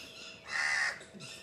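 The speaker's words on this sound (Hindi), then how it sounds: "ये कौवा बोलने नहीं दे रहा" A crow caws once, loud and harsh, near a hotel tree house, over faint outdoor background noise.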